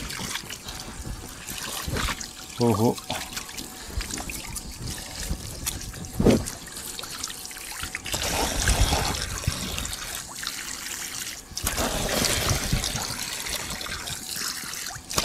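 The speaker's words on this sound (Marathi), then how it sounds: "गार गार पाणी." Cold water trickles and splashes continuously in a rural village setting, with a brief voice exclamation and scattered background noise over the running water.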